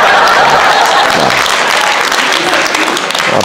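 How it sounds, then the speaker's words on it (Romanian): An audience at a Romanian stand-up comedy show breaks into loud, sustained applause, dense clapping from a full room that holds steady for several seconds. "Aplaudați la sărăcie"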